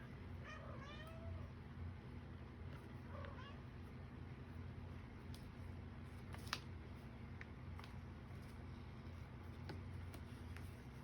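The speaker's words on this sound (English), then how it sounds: "He came in the room and is meowing." A pet cat meows a few times, faint and fairly close, in a quiet room over a steady low background hum.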